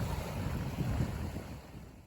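Ocean surf washing over a rippled sand beach on an island shore, a steady broad roar of breaking waves with wind rumble, continuous and fairly loud, no voices.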